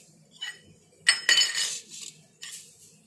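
Small bowls and cutlery clink as chutney is spooned into a small serving bowl, a few sharp close chinks in short bursts with quiet gaps between.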